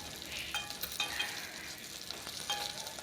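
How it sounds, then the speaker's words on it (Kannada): Garlic fries in oil in a pan for a home-style sambar, a soft continuous sizzle punctuated by light metallic clinks of a stirring spoon, fairly quiet and without speech. "ಇದು ಇವಾಗ ಚೆನ್ನಾಗಿ ಫ್ರೈ ಇದೆ ಇದು ಫ್ರೈ ಆಗಬೇಕು"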